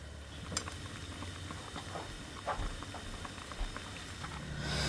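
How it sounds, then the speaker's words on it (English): Mushroom soup simmers in a pot, giving a steady low bubbling patter with scattered soft pops that swells slightly toward the end. "So I'm gonna let that simmer for a good 2 minutes."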